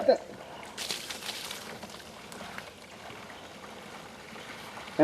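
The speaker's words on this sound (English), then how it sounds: "As I'm putting the water in there," Water pours and sloshes into a crop sprayer's tank while spraying corn and beans, a steady, fairly faint trickling splash with some broadband rushing and no clear rhythm.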